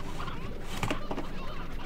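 Chickens cluck and squawk in the video game Slime Rancher, a fairly loud, busy flurry of honking, clucking calls over a steady game background, with no one talking.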